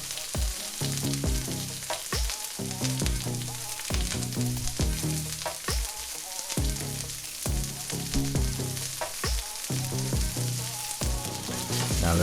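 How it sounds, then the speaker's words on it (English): Onions fry in sesame oil in a wok with a constant loud close sizzle, broken by repeated rhythmic scraping and tossing strokes every second or so. "So in our wok, we have us some sesame oil and we're gonna add us some onions"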